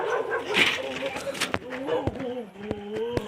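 A dog whines and yips in short, high whimpers, close by, mixed with some brief clatter.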